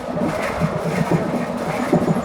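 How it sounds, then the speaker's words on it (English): An airport link train rumbles and rattles loudly from inside the carriage, a dense clattering roar with irregular knocks and bumps. "this train suddenly gets very loud"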